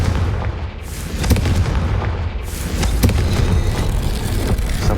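Booming spell explosions from a Hogwarts Legacy battle, a loud sustained rumble with sharp blasts near 1.3 and 3 seconds over dense game noise.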